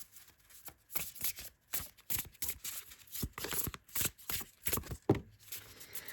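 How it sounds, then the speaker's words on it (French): A deck of Cosmic Dreamer oracle cards is shuffled by hand. A rapid series of crisp, papery riffles and slaps repeats in a steady rhythm, close and fairly quiet. "vous avez en plus le bruit du mélange des cartes"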